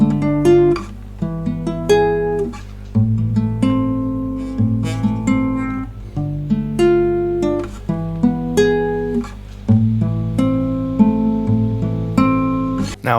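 A plucked guitar plays a minor-key chord progression with a Spanish flavor, steady strummed and picked chords with melodic notes on top, no voices.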